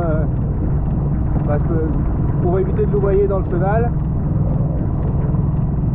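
Small outboard motor on the Little Kat catamaran runs steadily while heading into the wind in a channel, a constant low drone beneath someone talking close up.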